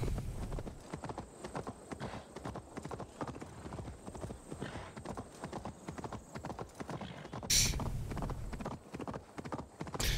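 Steady, rhythmic hoofbeats clip-clop throughout, a horse in Assassin's Creed Valhalla moving at an even pace with a brief bright burst of noise near the end.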